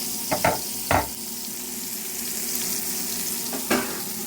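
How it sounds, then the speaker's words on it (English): Onions sizzling in olive oil in a skillet, a steady loud frying hiss punctuated by a few soft utensil knocks and stirring thumps near the start and end. "So I got a little bit of olive oil in the skillet. I'm gonna add some onions."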